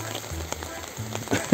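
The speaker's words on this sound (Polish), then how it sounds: "Deszcz mi zaczął padać" Light rain pattering on a surface beside a cooking grill, a soft crackling hiss with scattered droplet taps, brief and fairly close.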